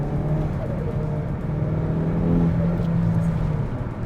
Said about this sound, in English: I think that the exhaust overpowers the intake noise in this car.